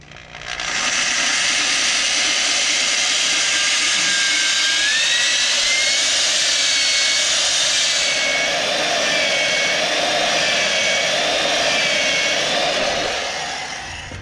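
Hone spinning inside an engine lifter bore, a loud steady high-pitched drill whine with a faint wavering squeal, continuous and close for the whole stretch with no talking.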